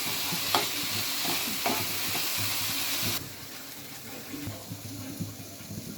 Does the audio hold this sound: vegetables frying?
yes